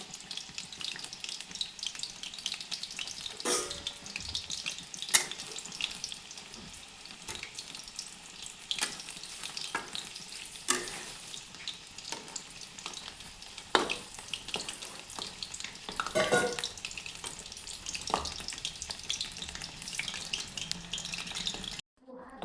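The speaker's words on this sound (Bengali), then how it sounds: "এখানে চিকেনগুলি ভালো করে ভাজা হয়ে গেছে" Chicken pakora fries in hot oil with a steady low sizzle, broken by sharp clatters and splashes as pieces are stirred and moved, in a street-style kitchen.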